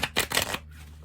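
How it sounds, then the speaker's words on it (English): An oracle-sized linen-finish tarot deck shuffled by hand, a quick burst of papery riffling that stops after about half a second, close and clear. "it just shuffles really, really easily"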